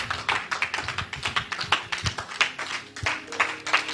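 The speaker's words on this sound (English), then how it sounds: "let us clap for Jesus Christ" A church congregation claps together in worship, a lively run of sharp, uneven hand claps at a quick rhythm, close and moderately loud, with no speech over it.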